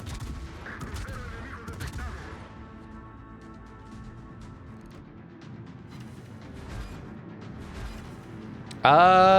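A warship's main battery fires a burst salvo in a naval video game, a series of booming gunshots over a rumbling background, ending in a sudden loud crack.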